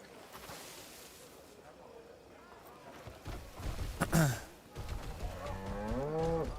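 A cow moos in the video game Crimson Desert, a single drawn-out call rising and falling near the middle, over steady outdoor game ambience with a voice talking and music-like tones near the end.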